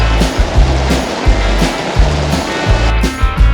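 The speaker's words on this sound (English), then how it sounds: "It's freaking pouring." Heavy rain pours down in a dense, steady hiss, with deep irregular thumps and rumbles rolling underneath; no one speaks.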